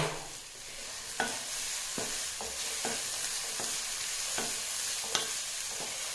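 Mature drumstick (moringa) stir-fry sizzling steadily in a pan, a continuous bright hiss broken by a handful of sharp spatula scrapes and clicks as it is stirred, close and fairly loud with no talking.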